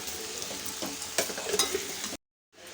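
Vegetables sizzle and crackle in a hot pan with scraping stirs, a steady hiss that cuts out briefly before resuming.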